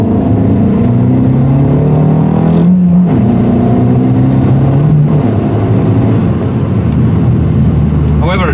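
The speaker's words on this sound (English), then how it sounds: "you heard now 3-4 times the exhaust popping" An Abarth 595C Turismo with a Record Modena exhaust is driven, its engine drone rising and falling through gear changes with a few brief pops from the exhaust, heard loud from inside the car.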